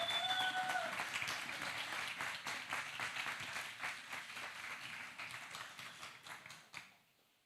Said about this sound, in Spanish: Démosles un fuerte aplauso a ellos